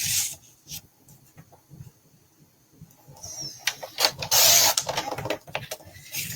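Paper being cut with a trimmer for a scrapbooking workshop kit, soft scraping and rubbing strokes, then a series of sharper slicing swipes and clicks close by, with no talking.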